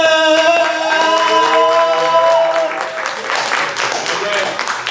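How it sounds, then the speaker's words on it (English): Open mic audience at a comic convention breaks into applause for a performer, a dense spread of clapping that builds after a held tonal passage and carries steadily to the end. "Let's give a big round of applause to Trey Digger!"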